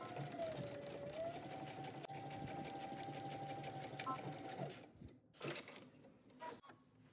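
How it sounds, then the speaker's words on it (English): A sewing machine runs in a steady, rapid mechanical whir, then stops and leaves a few clicks and handling noises. "head to your sewing machine and you're gonna stitch your shoulders"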